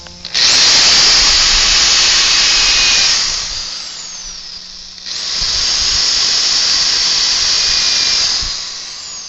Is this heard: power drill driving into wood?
yes